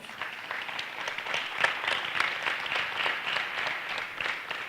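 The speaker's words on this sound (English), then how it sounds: "Please give an applause for both of our teams." Audience applause for two high school debate teams at an inter-school debate competition, steady mid-level clapping from a room of people that holds evenly throughout.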